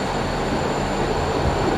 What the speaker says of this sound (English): Another train coming in. It's on platform 2.